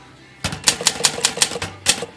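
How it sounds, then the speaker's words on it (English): Typebar strikes on an Olympia SM-3 manual typewriter, a steady run of about eight crisp, close clacks with a final louder strike, heard alone with no talk. "So typing along, first letter gets cut off."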